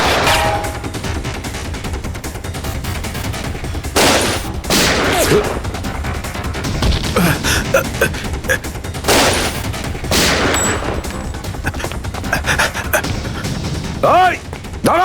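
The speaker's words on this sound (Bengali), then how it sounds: "দয়া, সিআইডি অফিসারকে গুলি করে দিলি?" Gunfire in a crime TV drama about CID officers, bursts of loud sharp shots at about 4, 5, 9 and 10 seconds over a noisy action scene with shouting voices throughout.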